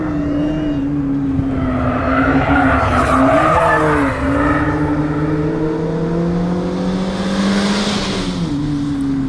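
Small Opel Mokka or Suzuki Ignis Sport cornering hard on a race track, its engine droning steadily while tires squeal and skid loudly and continuously through the turn.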